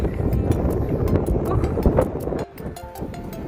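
Wind on a long bridge in the Philippines buffets and roars across the microphone in strong gusts, easing off briefly near the end.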